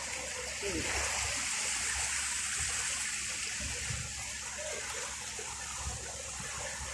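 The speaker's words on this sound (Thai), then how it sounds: "น้ำโคตรละแรงอ่ะ" The strong current of the Chao Phraya River gives a loud, steady rushing and splashing wash of water close by that carries on without a break.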